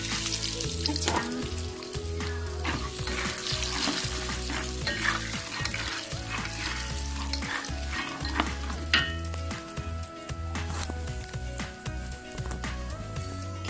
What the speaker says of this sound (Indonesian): Kemudian kita goreng kacang.